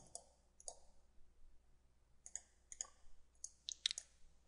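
Mouse clicks while working in SolidWorks CAD software, a few sparse single clicks followed by a quicker cluster of sharp, close, fairly quiet taps near the end, with no talking.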